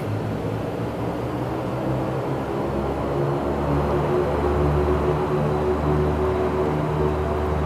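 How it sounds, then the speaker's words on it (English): Propellers of a Dash 8 Q400 turboprop spool up in X-Plane 12, a steady droning hum whose low tones rise and strengthen partway through. "you can hear those props coming up"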